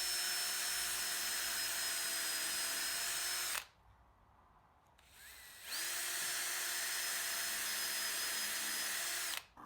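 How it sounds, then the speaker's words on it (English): Electric drill boring holes through a cast iron pulley, a loud steady whine in two long bursts separated by a brief pause, close up with no talk. "The pulley was made of cast iron, so it was pretty easy to drill."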